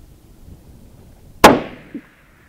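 A single sharp 6.5 Grendel rifle shot on a range, loud and close with a ringing decay, followed about half a second later by a faint distant impact from the 300-yard target.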